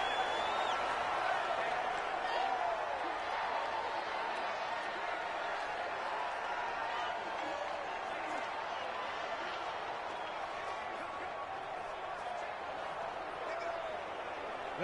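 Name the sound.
crowd noise in the Dome, Madden 2020 video game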